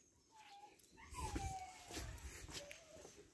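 Puppies in a pen on a rabbit and dog farm let out a thin, wavering whine that rises and falls, followed by softer whimpers over low background rustle and thumps.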